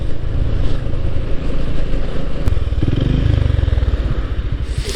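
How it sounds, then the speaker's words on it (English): Honda GB350S air-cooled single-cylinder motorcycle riding through weekend traffic on back roads, a steady low engine drone that swells in a throbbing pulse midway, with road and wind noise throughout and no talk. "When you're blipping this engine, especially since it's an air-cooled one, it revs up really slow."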